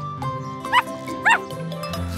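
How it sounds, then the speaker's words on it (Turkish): Two sharp, high yaps from a cartoon puppy, well spaced and clearly louder than the background music. "Köpekçik yüksek sesle havlıyor."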